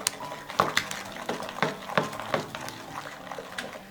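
A spoon or whisk works eggs into honey cake batter in a bowl, a series of close, sharp clinks and scrapes against the dish in an uneven rhythm, fairly loud with no talking.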